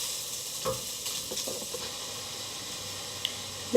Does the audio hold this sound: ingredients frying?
yes